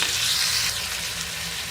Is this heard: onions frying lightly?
yes